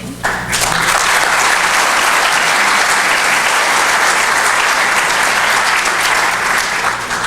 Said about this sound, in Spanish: despedimos a nuestros conferencistas con fuertes aplausos